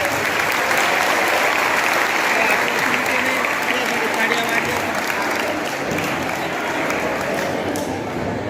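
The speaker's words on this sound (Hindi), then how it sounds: "तालियां बजाओ" Dense, sustained applause from a school audience at a Kathak dance event at JNV Akkalkuwa, loud and even for the full eight seconds with a slight dip near the end.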